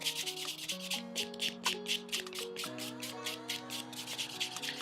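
Natural fingernails are buffed during a manicure, giving quick rhythmic rubbing strokes, soft and close, repeating steadily for several seconds with no talk.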